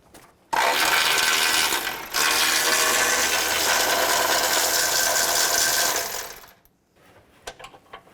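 An engine mount bolt on a 2011-2019 Dodge Grand Caravan is spun out with a loud, close mechanical whir that runs for about six seconds with one brief dip, then gives way to quiet scattered clicks and taps.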